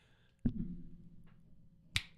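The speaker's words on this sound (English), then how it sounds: "I'm going to snap my fingers." A single sharp finger snap rings out clearly near the start, then after about one and a half seconds of quiet a second crisp snap follows, both close and alone with no talking.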